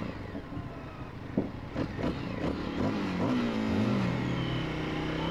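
An Indian FTR S motorcycle engine revs up and accelerates on twisty roads, pitch climbing steadily, loud and close, with some wind rush around it.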